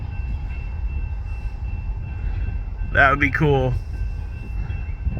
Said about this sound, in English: I think I see the end of the train through the bushes